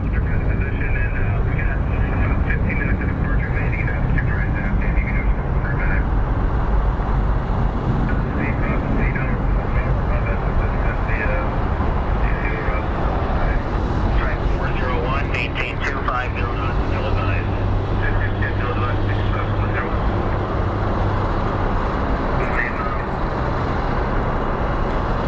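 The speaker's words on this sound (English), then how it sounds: "We are going to start seeing rapid departures here." Jet airliners depart Phoenix Sky Harbor International Airport, a loud, steady engine roar holding throughout with a low rumble, mixed with distant road traffic and some talking.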